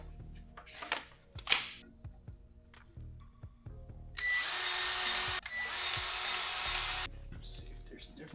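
A Harbor Freight gear-driven 1500 lb engine stand, freshly greased with wheel bearing grease, is cranked, giving scattered clicks and knocks followed by a sustained few-second whirring grind of the turning gears, close by.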